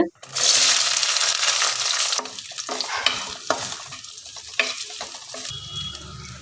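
Shallots, garlic and curry leaves hit hot oil with fenugreek seeds, giving a loud burst of sizzling frying that settles into steady crackle, broken by a few sharp stirring scrapes.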